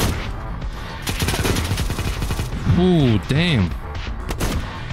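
Shotgun blasts in the video game Project Delta, a few sharp loud reports amid chaotic gunfire, with a voice exclaiming briefly over the action.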